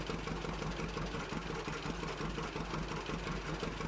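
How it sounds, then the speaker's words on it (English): A roughly 200-horsepower John Deere tractor idles and crawls along in Farming Simulator during soybean planting, giving an even, rumbling diesel hum with a light rhythmic knock, steady and subdued from start to finish. "Yeah, tractor with basically 200 horsepower,"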